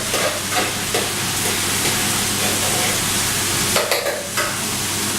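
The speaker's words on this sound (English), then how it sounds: "I'll add it to the frying pan." Corned beef hash sizzles and crackles steadily in a hot frying pan, with occasional stirring scrapes over the constant frying hiss.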